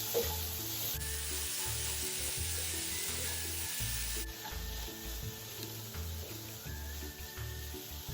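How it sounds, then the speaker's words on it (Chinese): Shredded jicama and carrot stir-fried together in a wok, giving a steady sizzle and scraping over background music, loudest in the first few seconds. "将所有食材一起拌炒"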